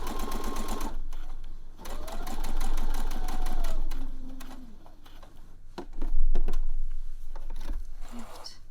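A sewing machine runs a long gathering stitch line, a close, loud, steady rapid whir with brief slowdowns and pauses, plus a few clicks of fabric handling toward the end.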